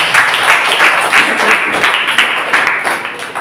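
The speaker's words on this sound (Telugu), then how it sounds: "సార్ అందరూ కూడా చప్పట్లు కొట్టేసారు" A church congregation applauds at an Easter service, a dense, steady wash of many hands clapping that fills the space at close range, with faint voices beneath it.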